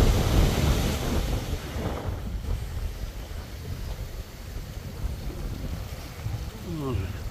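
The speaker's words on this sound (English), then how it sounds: "See where this wind's come from? It's just come from nowhere, and everything is just rocking away." Strong gusty wind buffets the microphone beside a canal during a fishing session, a loud continuous rush with low rumbling and no clear speech.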